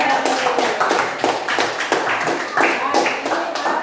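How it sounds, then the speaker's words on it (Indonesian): A class of schoolchildren claps together in a series of sharp, separate bursts, each clap crisp and close, with voices underneath. "tepuk tangan sekali"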